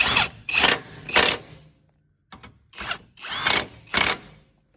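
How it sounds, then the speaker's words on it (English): A ratchet with a 15 mm socket snugs the steering box bolts on a 1998.5–2002 Dodge Cummins, sounding as several close, loud bursts of rapid clicking separated by short pauses. "And then we'll grab our 15 socket. Go ahead and snug these."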